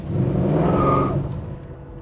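A 1963 Chevrolet Nova custom restomod's engine revs hard through its exhaust in one loud, close burst that swells and then falls away.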